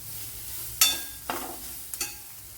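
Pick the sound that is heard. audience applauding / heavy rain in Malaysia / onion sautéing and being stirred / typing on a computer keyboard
onion sautéing and being stirred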